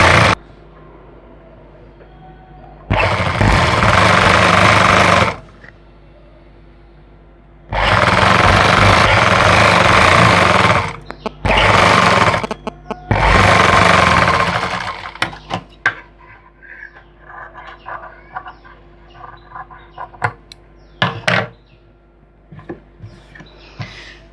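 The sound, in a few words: sewing machine stitching a salwar leg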